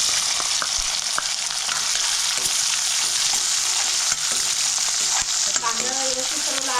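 Onion and curry leaves fry in hot oil with cumin, a loud, dense, continuous sizzle close up, broken by a few light stirring scrapes and clinks.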